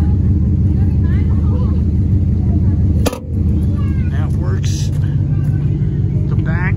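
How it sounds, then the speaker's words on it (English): A 1991 Ford F150 farm truck idles with a steady low engine rumble throughout, broken by one brief sharp knock, while someone talks over it in bursts. "Get a video of the truck running."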